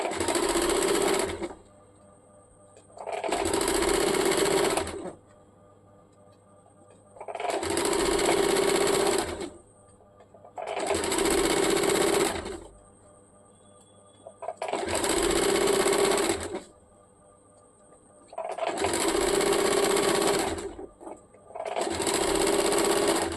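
Sewing machine stitching the hem of a salwar leg, running in seven steady bursts of a few seconds each, separated by short pauses, close and loud with no talking.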